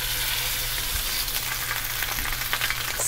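Salmon fillet searing skin-side down in avocado oil in a skillet, giving a steady, dense sizzle throughout with faint scraping and small spatter crackles, no voices.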